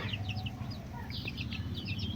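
Chickens cluck in a backyard coop shared with pigeons and roosters, with short repeated clucks over a steady low murmur of birds nearby.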